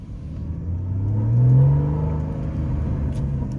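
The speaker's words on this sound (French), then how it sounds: "Cette sonorité, je vais ouvrir, entrouvrir la vitre pour vous laisser profiter de cette sonorité, car avec l'échappement sport, c'est un pur plaisir." A Porsche Boxster with a 265 hp 2.7-litre flat-six and sport exhaust revs up to a loud, swelling peak, then eases back to a steady droning rumble, heard from inside the car.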